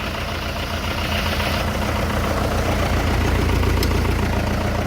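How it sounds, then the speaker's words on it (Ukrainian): A Lovol 504 tractor's four-cylinder Perkins engine idles close by with a steady, throbbing low rumble, unchanging and continuous with no voices. "Чотирьохциліндрові двигуни"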